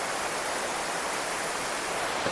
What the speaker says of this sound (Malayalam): പടിഞ്ഞാറൻ കാറ്റാണേ